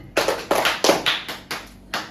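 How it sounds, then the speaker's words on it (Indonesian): A classroom of students claps in unison during a micro-teaching lesson, sharp group claps coming in irregular bursts of about six quick hits, close and fairly loud with no talking. "3 kali tepuk tangan."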